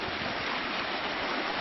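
Steady broadband rush of a creek flowing continually downhill, close and unbroken, with no voices over it.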